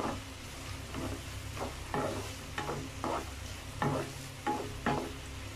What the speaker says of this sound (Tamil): வெங்காயம் வந்து நல்லா ஃப்ரை ஆகட்டும்